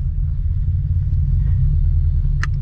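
Supercharged Scion FR-S engine pulling hard in third gear, heard as a loud, steady, low droning rumble that fills the cabin throughout, with one brief higher click near the end.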